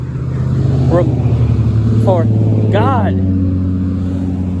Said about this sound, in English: everyone's engine has to be just so damn loud these days